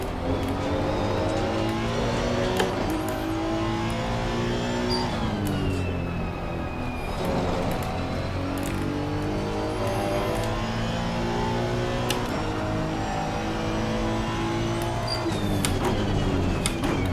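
Mid-engine race car in Assetto Corsa Competizione at Valencia: a steady, loud engine drone with rising and falling revs through gear changes, continuous throughout with no talking.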